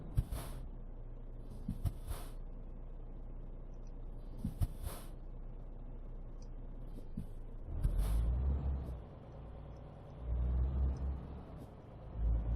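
A Renault truck engine in Euro Truck Simulator 2 rumbles low and steady, swelling with heavier revving near the end, with a few sharp clicks and hisses scattered throughout.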